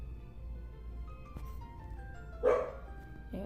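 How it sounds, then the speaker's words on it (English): A single dog bark rings out at a distance, faint and brief, over a low steady background hum of passing traffic. "And there goes the dog."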